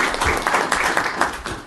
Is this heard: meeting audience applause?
yes